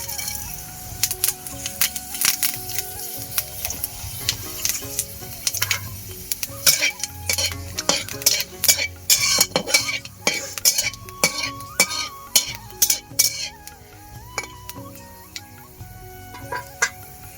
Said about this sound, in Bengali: তেল গরম হয়ে গেছে, একটা দিয়েছি শুকনো লঙ্কা, আর 5 ফোড়ন।